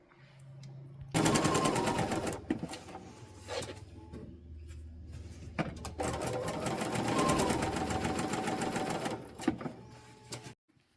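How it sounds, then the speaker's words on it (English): A sewing machine stitching the tails of a competition ribbon runs in a steady, rapid mechanical whir for about nine seconds with one brief pause, close and loud, then stops. "we'll do that until we have all of the tails sewn"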